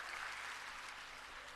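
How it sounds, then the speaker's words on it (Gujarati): A crowd at an Aam Aadmi Party political rally in Surat applauds in a faint, distant, steady wash of clapping with no voices over it. "આપણા માનનીય અરવિંદ કેજરીવાલજી માટે એકવાર તાળીઓની ગડગડાટ થઈ જાય।"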